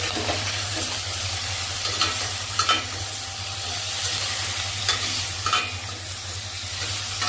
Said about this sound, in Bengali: আমি চিকেনটা একটু ফ্রাই করে নেব